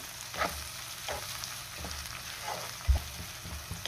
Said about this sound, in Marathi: टोमॅटो सुद्धा 2 ते 3 मिनिटं चांगला मी परतून घेणार आहे